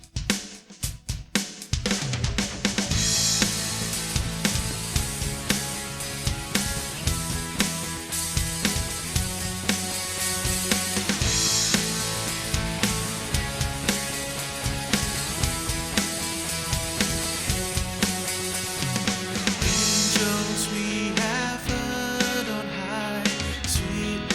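Distorted electric guitar through a Hotone Binary amp pedal and a compressor plays a dense, continuous riff with a full band-like wall of sound, loud and steady throughout, no voices.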